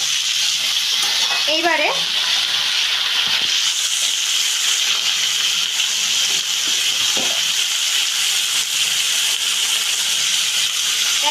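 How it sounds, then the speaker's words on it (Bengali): Chopped potatoes fry in hot oil in a pan, giving a steady, close, bright sizzle throughout, with a brief spoken word and a few clinks of a utensil stirring. "আলুগুলোকে আমি দিয়ে দিলাম। দিয়ে ভালো করে ভেজে নিচ্ছি।"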